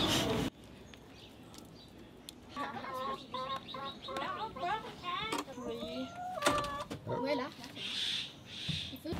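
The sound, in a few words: chickens clucking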